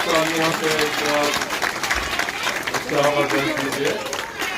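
An audience claps at a Holi celebration programme in Dayalbagh, Agra, a steady wash of applause running under a singing or speaking voice.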